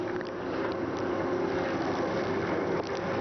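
A 1988 Racor 800D mobile oil fuel blender pump running dry after its oil hose is pulled, giving a steady, fairly loud mechanical hum with a rough, airy texture and no speech.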